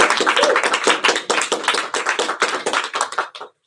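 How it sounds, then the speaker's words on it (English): An audience claps for speakers and production crew at a Black History Month show, a dense burst of applause lasting about three and a half seconds before cutting off abruptly. "Hand of applause for our speakers here today and our production crew."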